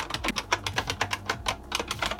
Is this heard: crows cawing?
no